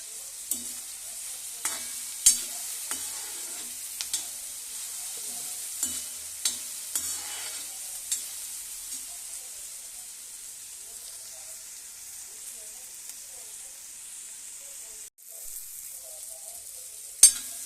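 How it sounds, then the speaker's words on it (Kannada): Cumin seeds fry in a pan for ridge gourd chutney, a soft continuous sizzle with scattered clicks and stirring taps, louder in the first half and settling into a quiet hiss. "ಇವಾಗ ಜೀರಿಗೆ ಹಾಕ್ತಾ ಇದ್ದೀನಿ"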